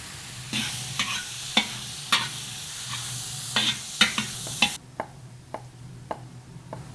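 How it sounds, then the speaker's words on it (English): Three pounds of bacon frying in grease as a big batch for pork jambalaya, giving a steady close sizzle broken by repeated sharp clacks from a stirring utensil hitting the pot. "I got 3 pounds of bacon I'm gonna start off with for my black eyes."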